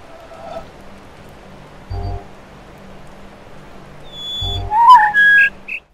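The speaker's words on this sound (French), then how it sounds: "C'est le sifflement en fait qu'il faut écouter." Whistled notes from the jungle sound puzzle in the video game The Witness, soft tones over rain-like ambience with low thumps, then a brighter, louder run of whistled pitches near the end.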